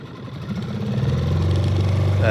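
A 6hp Suzuki outboard engine on an inflatable boat idles at tick over, a steady low drone that builds slightly in loudness, close by.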